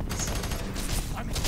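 Rapid gunfire from a newly picked-up gun in the prison level of Fear 3, a dense burst of shots filling the short moment, loud and close.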